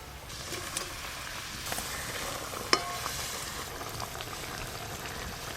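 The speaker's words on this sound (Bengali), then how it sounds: "ঝোল খুব ভালো করে ফুটে গেছে ভেজে রাখা তার ওই মাছগুলো দিয়ে দেবো" Fish curry gravy boils steadily in a pan, giving a continuous bubbling hiss with one sharp click partway through and no voices.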